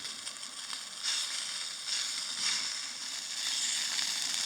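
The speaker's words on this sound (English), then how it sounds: "So here we have the sausages cooking." Sausages fry in a frying pan on a camp stove during wild camping in Scotland, giving off a steady, close sizzle with crackling bursts that swell and ease over several seconds.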